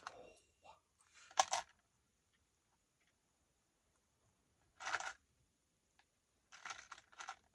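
A bunch of keys is handled, giving short metallic jingling bursts at close range separated by quiet pauses, with one burst early, one in the middle and a pair near the end.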